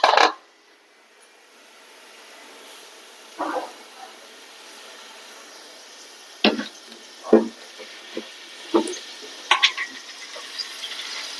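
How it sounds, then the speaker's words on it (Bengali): Onions fry in a pan for biryani with a low, steady sizzle, broken by occasional sharp clacks of a spoon stirring against the pan, close and without talking. "পেঁয়াজটা একটু বেরেস্তা করে নিব।"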